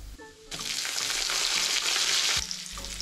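Curry leaves hit hot oil for a rice rava upma tempering, setting off a loud, sudden burst of crackling sizzle that holds steady for about two seconds before easing back, with no voices.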